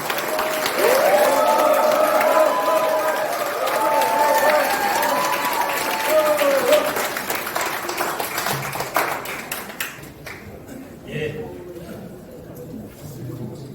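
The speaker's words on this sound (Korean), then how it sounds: "큰 박수로 변성환 후보를 맞이해 주십시오" Applause and cheering from a crowd at a Democratic Party candidacy announcement event for a Busan city party chair, loud and sustained for about ten seconds with voices over it, then fading into a quieter room.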